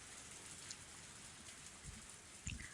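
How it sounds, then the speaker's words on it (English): Steady rain falling in the visual novel Higurashi When They Cry, a faint, even hiss of drops throughout with a couple of soft low thumps near the end. "The sound of falling raindrops was fierce"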